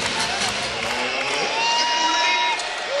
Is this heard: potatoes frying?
no